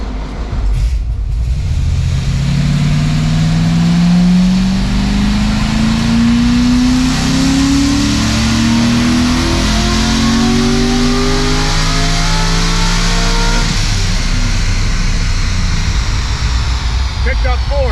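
A high-mileage LS7 V8 on a dyno climbs through a long, loud, steady wide-open-throttle pull, its pitch rising smoothly for several seconds before the revs drop away near the end.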